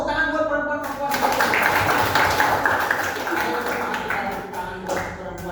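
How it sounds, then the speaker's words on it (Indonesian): Scattered clapping from a university lecture audience runs for several seconds, with a speaking voice over it. "Tepuk tangan buat perempuan-perempuan."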